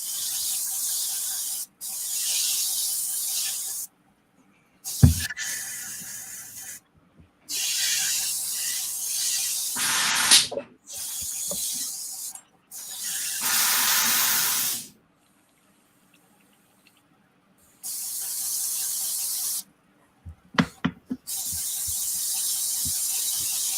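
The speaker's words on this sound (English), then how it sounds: "All right, let me clean my airbrush out." Airbrush being cleaned out, giving repeated bursts of close, loud spray hiss separated by short silences, with a few clicks and knocks between bursts.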